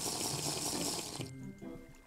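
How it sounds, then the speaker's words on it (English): Water gulping and sloshing from a Minecraft player drinking water in-game, a steady watery wash for over a second that cuts off abruptly, leaving quieter game tones. "I keep drinking water"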